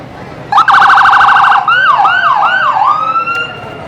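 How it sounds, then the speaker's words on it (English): Ambulance siren from Richmond Lennox EMS passing in a Michigan parade, very loud and close, opening with a rapid warbling yelp that shifts into slower rising-and-falling wails, with a faint second tone behind it. "Doing that scaring was the Richmond Lennox EMS in one of their ambulances."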